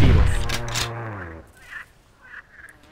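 Gunfire from the hunting video game Carnivores Dinosaur Hunter: a loud burst of shots at the start that fades out, followed by a few fainter echoing reports.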